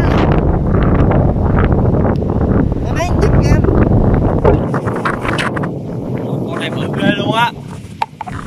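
Strong wind buffeting the microphone on a boat out checking crab traps, a loud continuous roar with gusts, while people talk over it.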